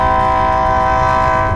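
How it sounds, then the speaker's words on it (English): A slow train passes, dominated by a loud, steady tonal horn or whistle drone over a rumbling low rail noise, held without a break. "we got the slowest train in the world"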